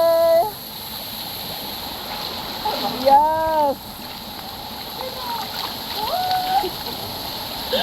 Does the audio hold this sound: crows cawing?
no